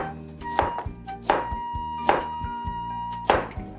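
Knife chopping zucchini into five or six chunks on a cutting board for a Korean dish, with a few firm, evenly spaced thunks heard close and alone.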